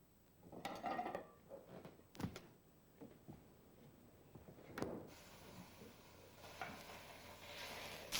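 A beef blade roast searing in a hot pot, faint sizzling and hissing with scattered clanks and stirring sounds, growing into a steadier fry toward the end.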